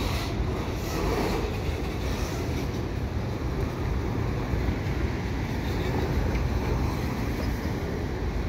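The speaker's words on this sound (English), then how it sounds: "That's the end of the train right there." Freight train passing close by, the tail end with old MR-91 rail cars rolling past, a steady broadband rumble and wind-like roar that holds loud and even throughout with no voices.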